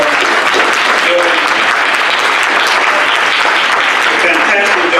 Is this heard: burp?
no